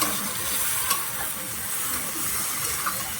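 Fish curry masala frying in a pan while being stirred, a close, steady hiss and sizzle with soft scraping throughout, no talk.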